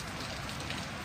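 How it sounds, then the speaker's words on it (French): Steady rain falls outdoors, a dense, even hiss of drops on surfaces with no breaks, heard close and alone for about a second. "Mais là, il pleut."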